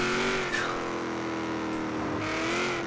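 A Holden car driving in the racing game Forza Horizon 3, its engine holding a steady, loud drone with rising and falling pitch as it accelerates and shifts, continuous throughout.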